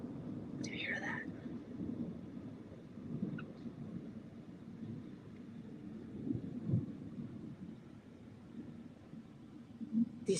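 Low, rolling thunder after lightning rumbles faintly through a storm for several seconds, a soft continuous growl with slight swells, heard indoors in an empty rental in Montana alongside quiet whispering and brief higher noises early on.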